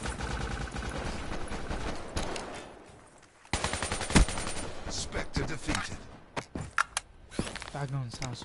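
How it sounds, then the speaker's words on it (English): AK-74 gunfire in a team deathmatch video game, with dense rapid bursts and a few sharp single shots under game effects, loud and close, with a short lull partway through. "AK-74."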